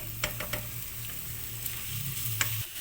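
Chopped medium-sized onions fry in a pan with a steady soft sizzle, punctuated by a few light scraping stirs of a spoon, close and fairly quiet.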